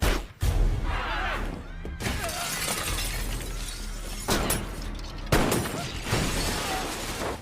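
Gunfire in a sniper action film, with sharp loud broadband bursts near 0.4, 4.3 and 5.3 seconds standing out against a dense, busy soundtrack of rumbling and crashing effects.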